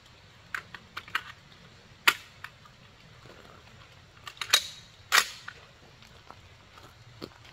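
An M1 carbine is fired outdoors in a backyard shooting gallery in Pennsylvania. A handful of sharp, irregularly spaced cracks stand out against quiet background noise, with a few fainter clicks between them.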